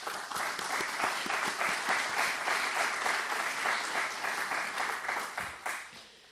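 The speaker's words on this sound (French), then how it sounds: "je propose que nous les applaudissions très fort" An indoor audience at a Luxembourg CSR label award ceremony claps warmly and continuously for the honoured companies, a dense even applause that holds for several seconds before tapering off at the end.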